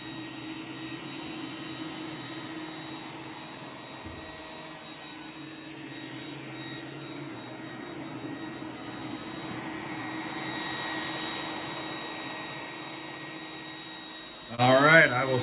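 An iRobot Roomba 981 robot vacuum runs on its turbo setting, giving a steady, loud whirring drone close by that swells slightly, with a short clattering burst near the end.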